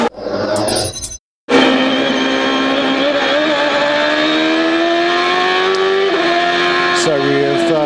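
IndyCar race cars at the 2006 Lexmark Indy 300 street race: a loud engine roar cuts off briefly, then a single car screams past near, its rising whine holding steady and fading, with commentary underneath.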